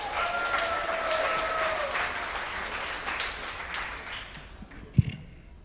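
A comedy club audience in Tacoma claps and cheers steadily as a comedian is welcomed to the stage, and the clapping fades out after a sharp thump near the end.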